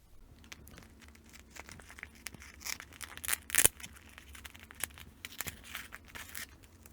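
Soft crinkling and tearing of a protective layer being peeled off a cut, postally used stamp, faint and close, with brief scratchy bursts and one louder rip midway.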